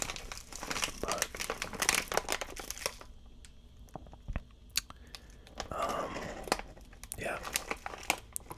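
Butterscotch sanded hard candy packaging crinkles up close in quiet, whispered ASMR, with a dense burst of crackling, then scattered sharp crinkles and rustles after a pause.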